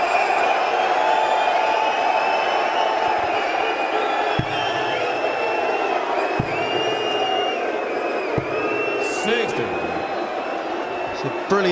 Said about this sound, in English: The crowd right into this now.